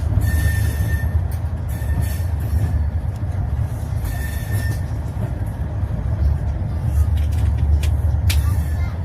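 A Nanded–KSR Bengaluru Express, heard from inside a 3AC coach, departs Pangaon station with a loud, continuous rumble of wheels on rail, intermittent high wheel squeal and clanks, and voices talking faintly underneath.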